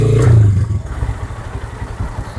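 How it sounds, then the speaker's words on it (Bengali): A TARO GP V3 motorcycle engine is heard while riding, starting with a loud low rev that settles into a steady, pulsing mid-pitched putter close by. "আমি একটু বাইকটা একটু চালিয়ে দেখছি ভাইয়ের।"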